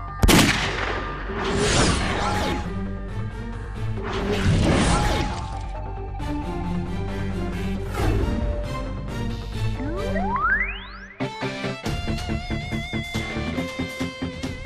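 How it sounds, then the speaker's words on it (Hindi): Several loud, sharp gunshot blasts crash over backing music, followed by a rising electronic sweep and a steady rhythmic beat. "गाने के बीच में गोली चलाते हो बहुत गलत बात है"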